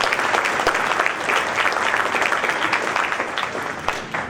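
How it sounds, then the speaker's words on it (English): Loud, sustained applause from a crowd, many hands clapping together at an even level from start to finish. "So if we could give them a round of applause."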